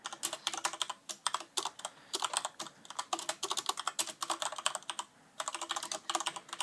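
Rapid mechanical keyboard clicking goes on in dense, fast bursts of keystrokes, close and clear, with one brief pause partway through and no voices.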